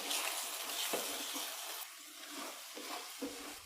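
Egg fries and is stirred in a pan for an egg rice dish, giving a faint, steady sizzle with soft scraping touches.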